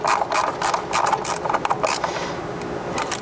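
Bolts on a Toyota 1FZ-FE engine are snugged with a ratchet, giving rapid, close clicking bursts in quick repeated strokes, loud and dry, with no voices.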